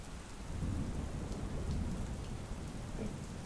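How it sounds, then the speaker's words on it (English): Heavy thundering rain pours down steadily over dense bush, a loud continuous roar of falling water with low rumbling underneath and no voices. "you can't see or hear anything other than the thundering rain around you."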